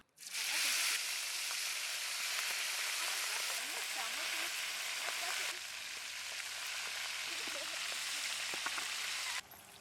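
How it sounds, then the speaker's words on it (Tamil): Steady, dense sizzling of masala-coated, idli-steamer-cooked chicken frying in hot oil for chicken mandi, loud and continuous throughout, with faint crackles and pops over the hiss. "மசாலா தடவி இட்லி பல்ல வேக வச்ச சிக்கனை பொரிச்சுக்கலாம்"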